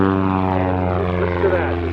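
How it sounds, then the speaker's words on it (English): A propeller airplane performing aerobatics at the Thunder of Niagara air show drones steadily and loudly overhead, its engine tone shifting slightly as it moves. "listen to that. There's not much power to that airplane"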